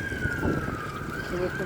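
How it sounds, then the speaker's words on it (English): An ambulance siren sounds outdoors on a very windy day, a steady sustained wail heard at a moderate distance, blended with constant rushing wind noise. "the ambulance is coming"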